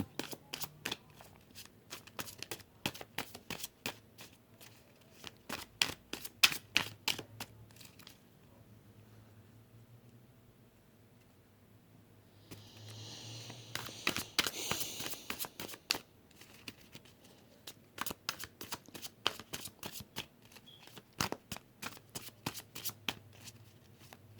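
Tarot cards shuffled up close in repeated bursts of quick riffling taps, a brief quieter pause in the middle before a louder flurry, then steady shuffling again, with no talk over it.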